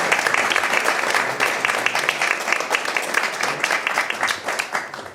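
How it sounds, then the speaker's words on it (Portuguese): Loud, dense applause from a gathered audience at a book presentation in Portugal, continuous clapping from many hands with some individual claps standing out, sustained for several seconds. "uma salva de palmas para a Margarida"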